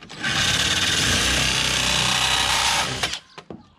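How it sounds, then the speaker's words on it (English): A power drill bores a hole for a homemade fishing chair rod holder, one loud, steady whine of about three seconds close by, then winding down into a few clunks. "Hopefully this will drill it."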